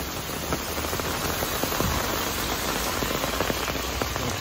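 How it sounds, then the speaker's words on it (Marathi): Heavy torrential monsoon rain pours down in Mumbai as a dense, steady roar with close drops spattering on surfaces. The sound is constant and loud throughout, with no voices. "केवढा जोरात मुसळधार पाऊस आपल्या इथे होत आहे"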